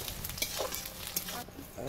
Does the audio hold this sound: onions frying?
yes